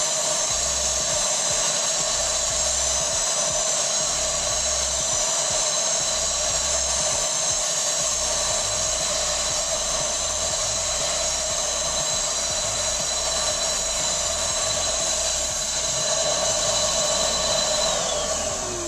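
A heat gun blows hot air steadily to dry freshly sprayed paint, a continuous loud whooshing roar with a whining tone that holds unbroken throughout.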